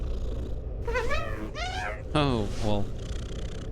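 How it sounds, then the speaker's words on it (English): A cat-like bug creature in a top-down roguelike game makes several rising and falling meow-like calls over a low, steady purring rumble, with a brief spoken remark. "Some kind of cat, bug, creature."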